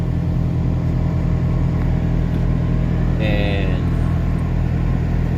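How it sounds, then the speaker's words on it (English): A truck engine runs loud and close, a steady heavy rumble that holds through the whole stretch while someone speaks over it. "I'm gonna go and start the truck."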